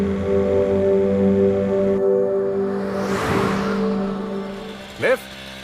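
A car drives along steadily with a low, droning engine hum throughout, and a brief louder swish of passing traffic about midway, under quiet background tones.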